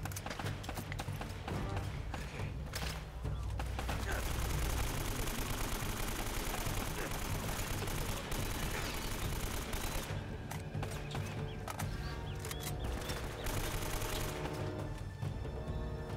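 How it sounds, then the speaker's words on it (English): Gunfire in the PS4 game Uncharted: Drake's Fortune, with rapid bursts and volleys of shots, dense and loud, running steadily, with some louder clusters near the end. "Where are those other shots coming from?"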